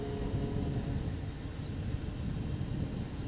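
Small 450-size quadcopter drone hovering in GPS hold, a continuous buzzing rotor drone with a thin high whine, steady in level throughout.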